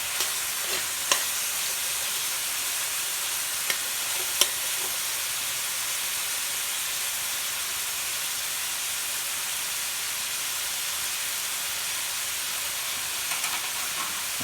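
Garlic, scallion, thyme, onion and mixed vegetables sweat in a pot as the base of a sauce, giving a steady, soft, even sizzle and hiss with a few faint clicks and no talking.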